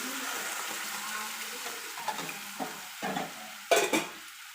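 Thick boiled and cooled milk goes into grated coconut fried in ghee in a pan for palkova, a soft steady sizzle with a few clinks and scrapes of stirring, no speech.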